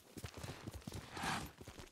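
Horse hooves in Ghost of Tsushima clop along in an uneven walking rhythm, faint and close, with a soft rustle of movement partway through.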